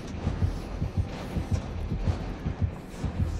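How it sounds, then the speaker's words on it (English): A heartbeat in a video game thumps in a steady, loud double-pulse rhythm, repeating about every half second on its own. "Heartbeat here."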